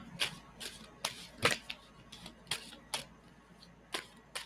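A deck of playing cards is shuffled in a series of quick, crisp riffles and snaps, close and fairly quiet, with brief pauses between bursts and no talking.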